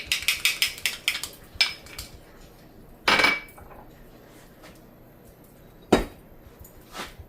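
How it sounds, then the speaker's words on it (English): Ketchup and Worcestershire sauce are whisked in a bowl, heard as a quick burst of rapid metallic clicks and taps of a whisk against the bowl, then a few separate clanks with quiet pauses between. "We're going to whisk everything together."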